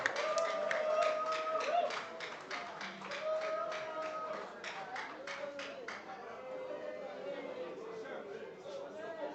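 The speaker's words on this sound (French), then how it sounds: "Je vous demande de l'applaudir très fort." Clapping rises from a union congress hall for the newly elected president, a steady rhythmic patter through the first six seconds that then thins out, with voices and chatter running throughout.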